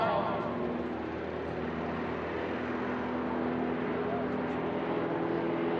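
A light STOL aircraft weighing just over 600 pounds taxis at a drag race, its propeller engine giving a steady, broad droning hum that stays fairly close and even throughout, with no talk over it.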